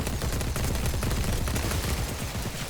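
Loud, continuous gunfire from the shooter game The Cycle: dense, rapid bursts rattle nonstop at close range with no talking.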